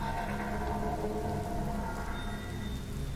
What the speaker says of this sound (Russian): Дождь льёт.